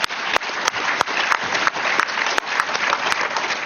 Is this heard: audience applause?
yes